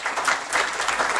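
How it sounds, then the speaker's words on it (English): Brief, loud burst of many hands clapping together from the audience at a moot court prize distribution ceremony, dense and steady with no talking. "A big round of applause for all of them, please."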